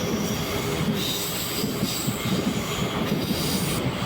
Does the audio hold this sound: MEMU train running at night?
yes